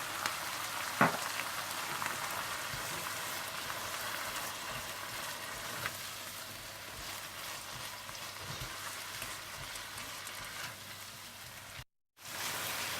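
Chili powder, salt, and crushed roasted cumin and coriander fry in a pan for ginger chicken, giving a quiet, steady hiss like light rain, with one small knock early on and a brief dropout near the end.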